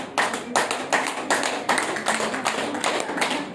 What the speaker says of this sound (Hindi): एक ताली की आवाज है